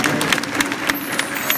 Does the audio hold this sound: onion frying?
no